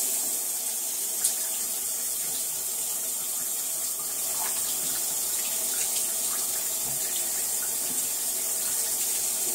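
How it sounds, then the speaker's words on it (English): Tap water runs steadily into a sink while a makeup blender sponge is washed under it, a continuous bright hiss with faint splashes, close and without talk. "now let's see how well this washes out"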